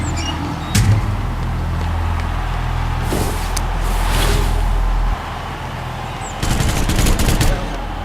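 Gunfire rattles out during a weapon fire test in the video game Hitman 2: loud bursts of rapid shots, a sharp crack near the start, then a heavy burst toward the end over a droning background.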